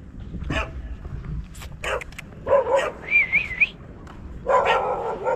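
Several dogs bark and yip in loud, irregular bursts close by, with a whistle-like tone rising between the barks, outdoors at a riverside spot where fish are being grilled.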